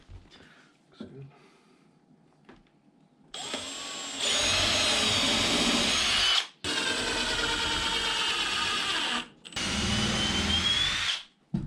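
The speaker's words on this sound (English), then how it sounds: "You can see Coop wants to herd the drill into place." A power drill whirs loudly in three sustained bursts with brief pauses between, close by during work on rustic wooden shelves for an off-grid cabin, after some quiet low talk at the start.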